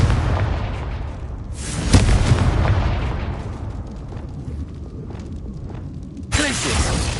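Deep booming blasts from the Confringo spell in Hogwarts Legacy thud through a noisy game fight, a strong hit near two seconds and another burst near the end over continuous rumbling combat.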